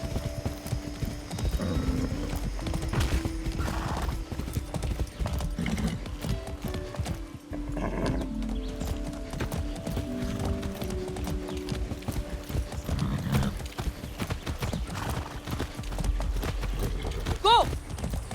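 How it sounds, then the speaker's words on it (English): Horse hooves clip-clop steadily through much of the ride in Far Cry 6, with a brief whinny near the end, mixed with game ambience and some talk. "I haven't ridden a horse since basic training."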